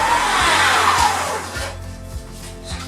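An electric mixer whirs through icing sugar at low speed, a steady close motor drone with a rhythmic pulsing beat from the beaters, loud and alone.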